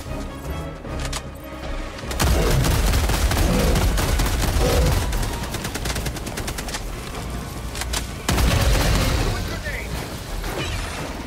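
Railgun fire and other weapons in a shooter video game: dense bursts of gunfire and sharp blasts crowd the mix, heavy volleys hitting around two and eight seconds, while a player talks over the action.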